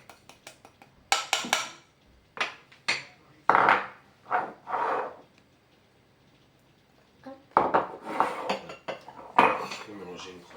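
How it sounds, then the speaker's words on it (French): Dry ingredients for tartlet dough are mixed in a bowl, with bursts of scraping, rubbing and clattering from a utensil against the bowl broken by quiet pauses, close and fairly loud. "Là, tu mélanges tous les ingrédients secs."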